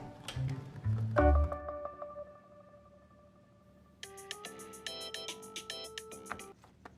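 A mobile phone rings with a melodic electronic ringtone, a clear repeating tune of bright tones that pauses briefly and then resumes faster, heard fairly softly after a short low thud.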